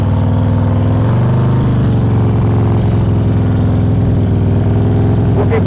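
A motorcycle pulls away from a stop on the road with the throttle raised through the friction zone, a steady loud engine drone that rises slightly in pitch early on, continuous and close with no talk.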